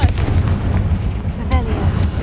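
Repeated booming blasts of the Confringo explosive spell in Hogwarts Legacy, loud, low thuds with rumbling tails and a couple of sharper bursts layered over game ambience.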